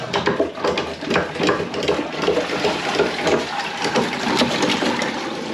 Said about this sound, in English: we'll start by shutting the water off, giving it a flush